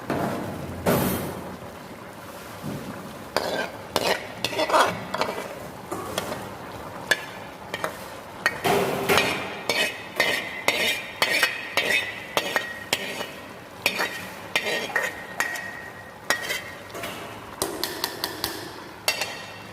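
Mushroom risotto with vegetables is stirred in a pan, a low simmering sizzle under repeated clinks and scrapes of a spoon against metal in an uneven, busy rhythm.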